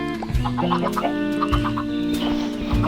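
Blocky Minecraft chickens cluck repeatedly in short, bright bursts, close and clear, over a soft tonal game music bed with low thumps underneath.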